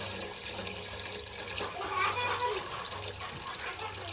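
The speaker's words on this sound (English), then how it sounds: "my husband's gonna pour some water in here for me" Water is poured by hand into a cooking pot of stewed okra and tomatoes, a steady close pour that swells midway, with faint kitchen noise underneath.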